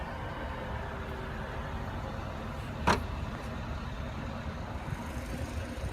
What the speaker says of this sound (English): And there you have the one-touch close.